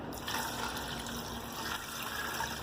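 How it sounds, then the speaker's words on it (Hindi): About one litre of water poured into a pot of meat with turmeric and salt, a steady broadband splashing and gushing stream that runs loud and continuous throughout. "ये तकरीबन 1 लीटर पानी मैंने इसके अंदर डाल दिया।"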